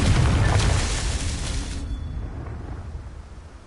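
A fiery Confringo spell blast in the video game Hogwarts Legacy, a loud, booming explosion with a deep rumbling impact that slowly fades into a dull, decaying roar.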